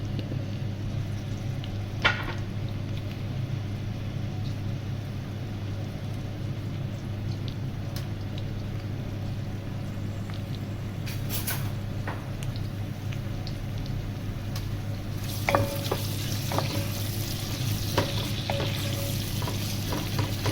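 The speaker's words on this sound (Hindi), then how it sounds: "प्याज को हमने ब्राउन करना है" Onions frying in oil on the way to browning for chicken korma, a low steady sizzle that grows livelier near the end with a few spatters and stirring clicks, no voices.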